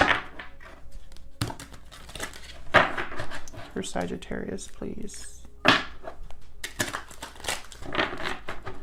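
Soft papery riffling and brisk slapping of tarot cards being shuffled, repeated in short bursts close by, while a person talks quietly over it.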